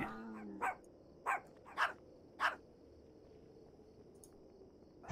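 A small dog in World of Warcraft yaps four times in short, separated bursts over a faint constant high-pitched tone and quiet background.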